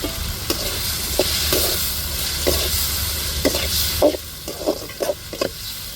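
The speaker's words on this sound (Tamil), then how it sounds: "உப்பு சேர்த்துருவோம் தக்காளி வெங்காயமும் நல்லா வதங்கட்டும்" Tomato and onion sautéing with salt in a pan, a steady soft sizzle under repeated stirring scrapes that tick at a regular rhythm, close and clear with no talk.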